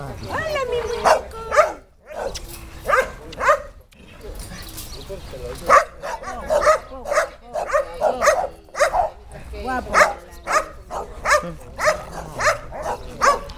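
A small dog in a park barks and yips repeatedly in quick bursts, close and loud, while people talk to it warmly throughout.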